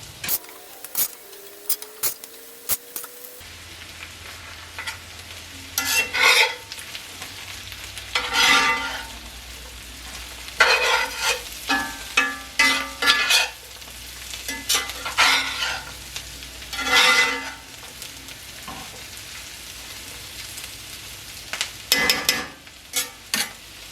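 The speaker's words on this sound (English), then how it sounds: "So we're going to go ahead and put in the squash now." Squash frying in a pan with radishes for a breakfast scramble, a soft ongoing sizzle broken by scraping stirs and clinks of a scoop against the pan, close, with no talking.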